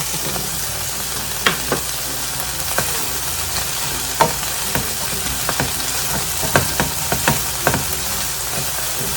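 Bell pepper and white onion sauté in a hot pan, a steady, close hiss of frying punctuated by repeated scraping and tapping strokes from a stirring utensil, with no one talking.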